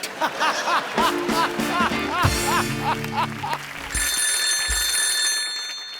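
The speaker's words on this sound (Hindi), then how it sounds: "संतोष को फोन लगाया जाए प्लीज" A telephone rings in a repeated trill close by, joined by a brief talking voice and another electronic tone near the end.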